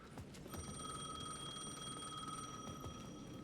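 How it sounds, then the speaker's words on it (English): A payphone at the edge of a plaza rings in a video game, a steady electronic bell tone with bright sustained harmonics held for about two seconds over low background noise, no talk. "The payphone at the edge of the plaza was ringing again."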